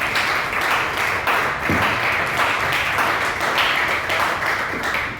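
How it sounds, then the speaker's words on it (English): A comedy night crowd at Pour Choices bursts into steady, dense clapping and applause, sustained and fairly loud for the whole stretch with no pauses. "one more round of applause for him"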